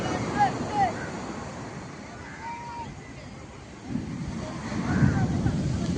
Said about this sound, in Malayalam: അത്രയും ഭാഗത്തോളം തിരമാല കരയിലോട്ട് കയറിക്കൊണ്ടിരിക്കുന്നതാണ്